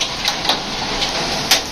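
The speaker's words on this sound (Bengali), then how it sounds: "ওরে বৃষ্টির স্পিড অনেক পাওয়ারফুল, বৃষ্টি গ্লাস লাগানোর পরেও" Heavy rain mixed with large hailstones pounds against window glass during a windy storm in Helsinki, Finland, a dense continuous hiss broken by a few sharp ticks of impact.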